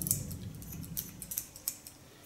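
Scissors snip through hair in a barbershop with a quick series of crisp metallic snips, close and fairly faint, spaced irregularly over a soft background hiss.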